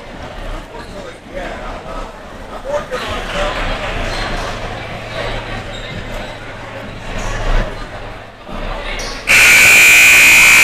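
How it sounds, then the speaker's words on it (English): A loud, steady buzzer blares at the end of regulation in a junior varsity boys high school basketball game. It cuts in abruptly after a stretch of crowd noise, ball bounces and talking. "And the buzzer sounded"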